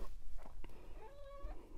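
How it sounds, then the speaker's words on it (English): A pet cat meows softly indoors beside a knitting machine, one short rising-and-falling meow after some faint rustling, quiet and close with no talking over it. "My cat is here saying hello."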